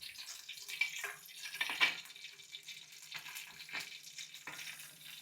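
Cashews, mustard seeds, cumin and pepper fry in ghee in a pan, giving a soft, faint sizzle with a few quick crackles and pops that come and go.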